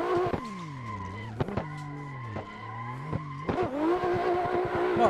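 Simulated car drifting in the Assetto Corsa racing game, played with a DD1 direct-drive wheel: a loud, sustained engine note rising and falling with throttle, broken by sharp shifts and long tire squeal throughout, with no voices.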